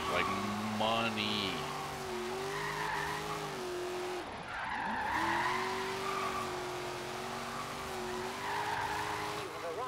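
A Fox Body Mustang drifts in Forza Horizon 3, its engine droning steadily as the tires squeal and slide through long, continuous drifts. The car is loud and close throughout, with a brief dip in the middle and someone talking over it.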